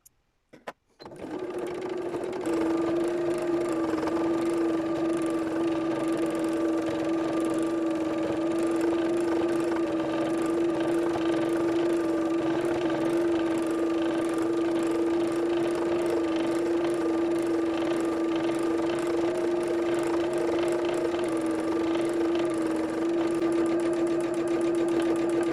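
Sewing machine stitching free-motion embroidery on an art quilt made from Gelli-printed fabric scraps, a loud, steady rapid whirring hum running continuously after a few brief clicks at the start.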